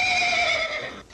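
A single loud, close horse whinny, a high, bright call that falls slightly in pitch and fades out after about a second.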